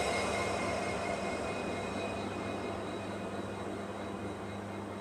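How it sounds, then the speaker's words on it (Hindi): A WDP 4D EMD diesel locomotive departs Pokhran railway station, with a steady low engine drone and rumble plus faint high whining tones, fairly loud and sustained without talk. "42 मिनट की देरी से अपना डिपार्चर अब हो रहा है पोखरन रेलवे स्टेशन से।"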